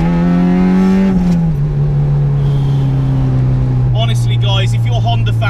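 A naturally aspirated 235 bhp B16B EK4 Honda Civic engine revs high and loud from inside the cabin, a steady drone that rises then settles at a sustained pitch, with someone talking over it near the end.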